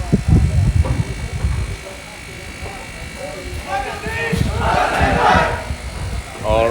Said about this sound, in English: the Bedouins with their cheer